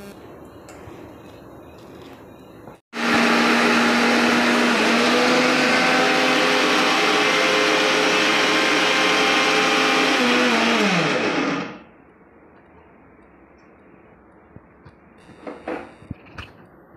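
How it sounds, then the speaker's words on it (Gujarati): Mixer grinder powdering a gram flour mixture starts abruptly with a loud, steady high-pitched whirring roar for about nine seconds, then winds down and stops, followed by quiet room sounds and a few soft knocks. "ત્યાં મિક્સર ભૂકો કરી લઈએ."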